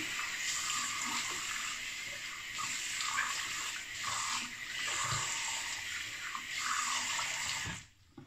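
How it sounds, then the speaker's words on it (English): Cold water runs from a sink tap while someone splashes and wets their face, a steady close rushing stream broken by brief splashy changes before it stops near the end. "Just going to wet the face with some cold water and get going."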